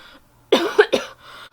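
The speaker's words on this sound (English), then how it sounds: "your girl literally started coughing so freaking much" A short burst of two or three harsh, close coughs, with a little throat noise after.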